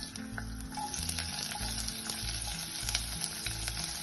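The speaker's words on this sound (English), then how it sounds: "1 teaspoon of oil, and I will add half teaspoon of cumin seeds and quarter onion in." Cumin seeds and a quarter onion fry in a teaspoon of oil, a steady close sizzle running throughout with a soft rhythmic low pulsing beneath it and no voices.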